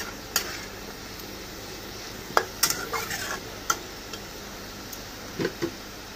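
Potatoes frying in a pan until crisp, with a low steady sizzle and a few scattered scrapes and clicks of a utensil stirring them, close by and fairly quiet.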